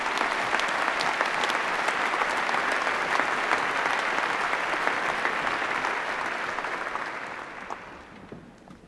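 Audience applause for a graduating class at a university graduation ceremony, dense sustained clapping that gradually fades toward the end.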